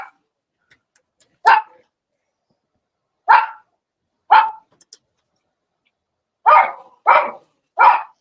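Dogs bark in short, sharp single barks spaced irregularly, then a quicker run of three near the end, loud and close against an otherwise quiet room.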